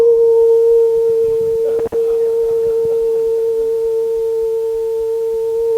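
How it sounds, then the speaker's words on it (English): The Emergency Broadcast System test tone: a loud, steady, piercing electronic attention signal that holds unbroken for several seconds, apart from a brief dropout near the two-second mark, with no speech over it. "This is the emergency broadcasting system"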